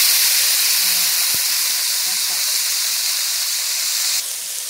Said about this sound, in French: La poêle est très chaude et je vais mettre une portion.